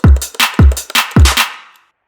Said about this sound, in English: we'll add a second snare in between, so it sounds like this.